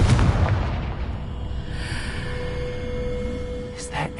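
A Confringo fire spell explodes in Hogwarts Legacy, giving a loud, booming burst at the start that rolls into a low rumbling decay with faint crackle, followed by a steady tonal hum and a couple of small later pops.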